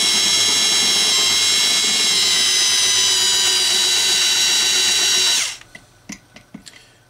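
A power drill runs at a high steady whine for over five seconds, then spins down as the trigger is released, leaving a few faint knocks and clicks.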